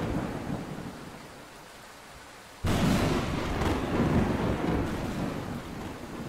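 In the Roblox game The Island Story Mode, steady rain falls and then a sudden loud thunderclap breaks in, rumbling on over the downpour without any voices.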